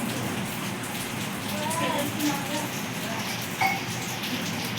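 Steady rain falls outdoors near a tree and parked bikes, a dense, even patter holding close and constant throughout, with a couple of faint light clinks over it.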